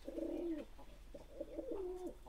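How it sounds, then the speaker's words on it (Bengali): Sirazi pigeons coo nearby in soft, throaty, rolling phrases, two drawn-out calls in quick succession with faint background noise and no talk. "আর সিরাজ কবুতরগুলো দেখেন ভালো মতো,"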